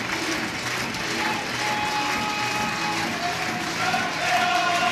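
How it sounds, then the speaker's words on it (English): A stadium crowd roars and applauds for championship winners as players celebrate with a winning banner; a dense, steady wall of cheering and clapping holds throughout and swells slightly near the end. "The shout goes, the cheer goes up, Championes."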